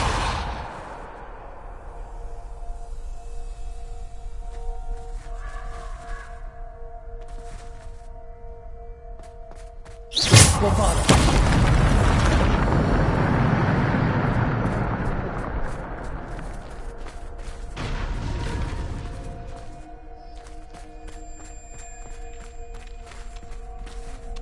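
A Depulso spell goes off in Hogwarts Legacy as a sudden loud whooshing blast that surges and fades over several seconds, then a second softer swell, with quiet game ambience before and after.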